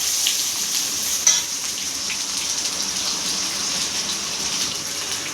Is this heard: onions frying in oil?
yes